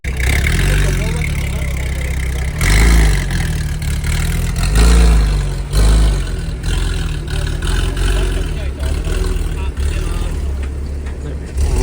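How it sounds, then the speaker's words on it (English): Cars rumble and idle close by at a Tokyo car meet, with deep engine drone and a few louder revving swells, while people talk throughout. "I think I can already hear some more cars pulling in."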